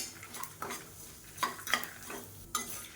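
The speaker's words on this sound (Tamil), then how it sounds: "நான் இதோட அப்படியே சேர்த்து வறுக்கிறேன்." Urad dal roasts in a pan with asafoetida and tamarind, with scattered stirring scrapes and soft clicks of a spoon against the pan over a faint sizzle, close and fairly quiet.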